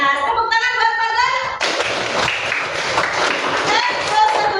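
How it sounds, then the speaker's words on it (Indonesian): Schoolchildren in an Indonesian classroom clap for a classmate: a teacher's voice first, then a dense burst of close hand claps that carries on to the end with voices mixed in. "Tepuk tangan buat Fadlan."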